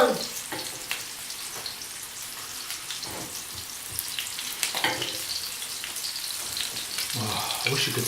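Meatballs sear in a frying pan with a steady crackling sizzle, broken by scattered pops and the occasional knock of turning them.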